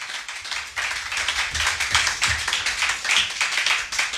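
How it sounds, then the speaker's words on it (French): A church congregation claps together in acclaim of the Lord during a French-language sermon, a steady dense patter of many hands that rises and holds, fairly close and lively, with no talk over it. "Est-ce qu'on peut acclamer le Seigneur?"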